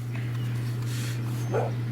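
A pet dog gives a short yip or whimpering bark near the end, heard indoors over a steady low electrical hum with faint background noise.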